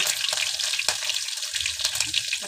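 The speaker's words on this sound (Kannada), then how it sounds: "ಈಗ ಎಣ್ಣೆ ಕಾದಿದೆ, ಜೀರಿಗೆ ಸಾಸಿವೆ ಹಾಕೋಣ, ಮತ್ತು ಕರಿಬೇವು ಹಾಕೋಣ" Cumin, mustard seeds and curry leaves crackle in hot oil at the start of a simple pasta dish, a bright continuous sizzle with small pops, close and steady for a couple of seconds.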